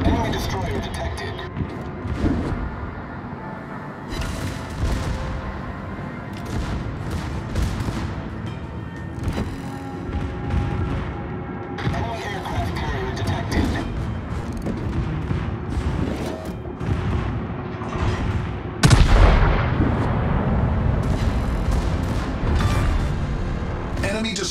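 Naval guns boom in a warship battle game, with heavy, irregular salvos and rumbling impacts spread across a busy, loud mix, under occasional radio-style voice callouts.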